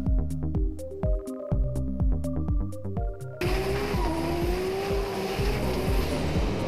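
A drift car at full power pouring out tire smoke during round one of a D1NZ drifting event in Dunedin. Loud engine roar and tire squeal rise into a harsh, noisy wash with a climbing whine.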